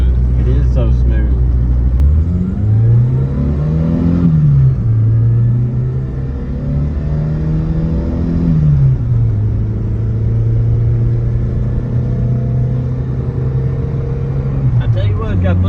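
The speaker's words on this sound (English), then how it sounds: "Fifth gear, just cruising." A Chevrolet S10 pickup truck with a swapped-in manual gearbox cruises in fifth gear, its steady low engine drone rising and falling gently under near continuous road rumble, with a person talking over it.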